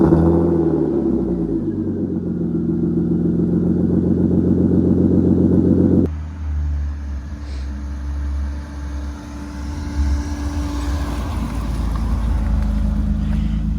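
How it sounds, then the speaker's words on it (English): A BMW E36 with a muffler delete and blast pipes cold-starting: a loud, steady low engine rumble with a lumpy idle, shifting tone partway through as the revs settle and continuing throughout. "let me give you guys a quick little cold start"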